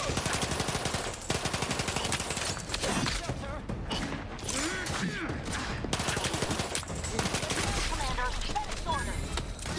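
Sustained automatic gunfire in The Outer Worlds 2, loud rapid bursts of shots with booms and mechanical clatter filling the whole stretch, while a player talks over the shooting.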